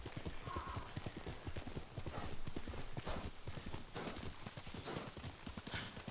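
A horse gallops across grass in the video game Ghost of Tsushima, a fast, steady clip-clop of hooves running throughout, loud and close, with occasional snorts and game ambience underneath.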